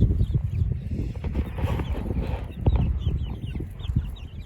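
Several chickens cluck and chatter close by, irregular bursts of clucking with soft rustling and shuffling in the background.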